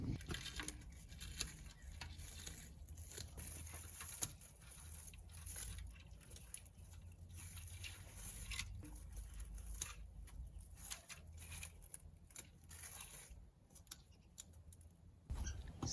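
Shears snipping back dead, dried coreopsis stems in a high-desert garden, a close run of irregular crisp cuts and rustling stalks, steady and fairly quiet throughout with no talking.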